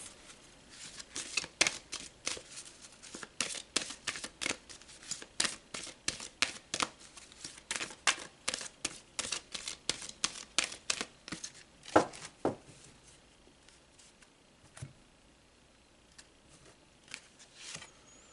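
Tarot cards are shuffled and pulled during a collective reading. A fast, close run of crisp riffling snaps and flicks fills the first twelve seconds. A few scattered card taps and slides follow in quieter surroundings.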